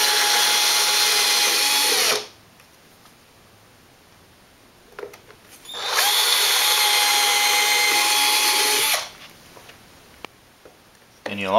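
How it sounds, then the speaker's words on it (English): A power drill bores holes in a wooden cat tree shelf, running in two loud, sustained bursts close by with a quiet pause between them. "Then drill two holes, 1 inch from the back"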